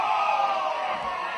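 Football crowd at a country league match yelling and cheering together, a dense, sustained roar of many voices close and loud with no single voice standing out.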